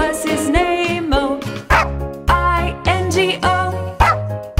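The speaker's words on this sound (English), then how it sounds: "There was a farmer had a dog, and Bingo was his name" Cartoon dog barks sound in a children's nursery song about a farmer's dog, several short yaps punctuating a bright musical backing with no singing voice over them.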